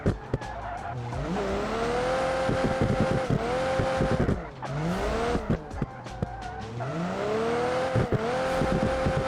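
A car engine in sixth gear hammers against the rev limiter in the BeamNG driving game, its tone rising and falling in repeated sweeps with tire squeal mixed in, loud and close.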